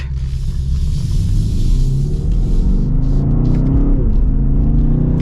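A 2023 BMW XM accelerates hard, its engine note rising steadily with a rumbling exhaust, then a brief dip as a gear shift hits before it climbs again, loud and close throughout.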